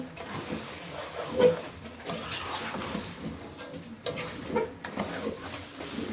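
A spoon stirs chalta (elephant apple) pickle in a pot after sugar is added, giving soft irregular scraping and gentle cooking noise at moderate level without any talking.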